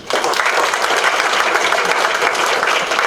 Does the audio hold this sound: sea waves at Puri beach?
no